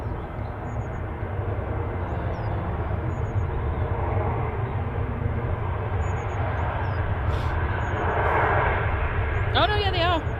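A Ryanair jet airliner lands at Manchester Airport using heavy reverse thrust, making a loud, steady roar that fills the whole stretch, with faint voices in the background.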